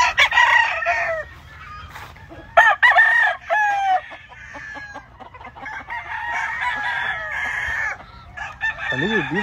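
Roosters crow repeatedly at a bird farm in California, several loud cock-a-doodle-doos overlapping with clucking fowl nearby, with a person's voice briefly in the background.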